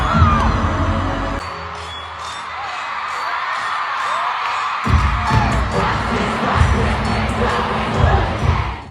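A huge stadium crowd of around 80,000 fans at a concert in Paris roars and cheers continuously, swelling louder near the end, with no clear singing voices standing out above the dense, distant-sounding din.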